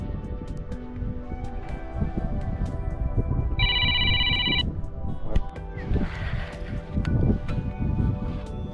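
A mobile phone rings once in short bursts while someone is out fishing on a boat, its tone sitting over wind, rustling and water noise for about a second.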